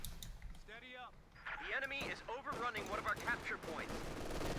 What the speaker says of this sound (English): Gonna use a light machine gun engaging here.